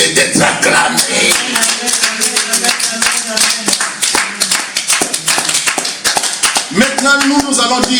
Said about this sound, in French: cette promesse-là mérite d'être acclamée